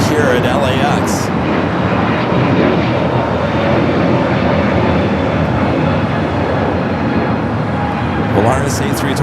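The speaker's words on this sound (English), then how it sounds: "Polaris A321neo taking off here on the south side." A Polaris A321neo airliner taking off from the south side at LAX, its engines a loud, continuous roar that holds steady throughout, with brief clicks and faint sounds at the start and end.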